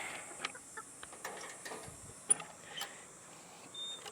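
A barnyard mix flock of chickens clucks softly and intermittently nearby, with scattered short clucks and faint scratching or clanking noises against quiet surroundings.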